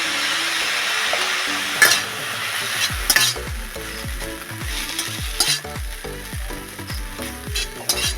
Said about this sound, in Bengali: প্রথমে দিয়ে দেবো আমি সয়া সস।